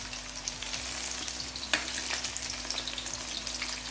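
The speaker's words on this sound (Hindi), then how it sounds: "एक साइड से पकौड़े फ्राई हो गए हैं।" Chicken pakoras frying in hot oil, a steady close crackling sizzle with scattered pops and one sharper spatter, continuing on its own without talk.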